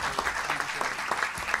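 A seated audience applauds at a presidential speech at the Department of Energy, producing a brief burst of dense clapping with a few distinct individual claps standing out.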